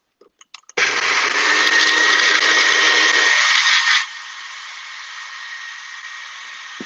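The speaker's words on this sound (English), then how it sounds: "So I'm gonna put it over here in my blender for a second, and hopefully it won't be too loud." A kitchen blender whirs loudly at close range while blending a thick sauce, starting abruptly, running steadily for about three seconds, then dropping to a thinner, quieter whine as the load changes.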